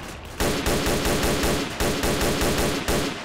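Sustained automatic gunfire in the S.T.A.L.K.E.R. Shadow of Chernobyl video game, a loud close rapid burst of shots that runs almost without pause for several seconds after a short quiet start.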